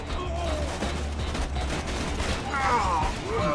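Rapid gunfire rattles in the Borderlands 2 video game, a dense stream of shots mixed with game effects and someone talking over the action.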